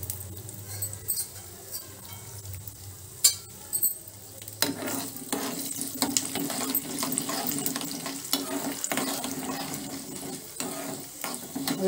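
Mustard seeds, cumin and fenugreek frying in hot oil for an okra chutney, a low faint sizzle that grows busier midway with scattered light pops and scraping stirs.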